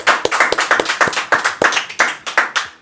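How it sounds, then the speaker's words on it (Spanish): A small group claps in a quick, uneven rhythm for about three seconds, the sharp hand claps close and distinct with no cheering. "Un aplauso, por favor."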